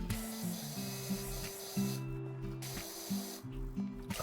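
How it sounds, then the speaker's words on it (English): Pressure washer spraying in PowerWash Simulator 2 while cleaning a gator-themed roller coaster with starting tools, a steady close hiss of water jet running continuously with brief pauses and game music tones underneath. "Spray everything inside."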